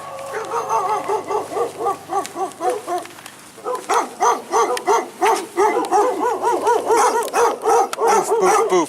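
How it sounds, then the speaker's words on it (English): Several dogs bark repeatedly in a busy, overlapping chorus, close and loud, with a short lull before the barking picks up again even more densely. "where there's a lot more barky dogs here pretty soon."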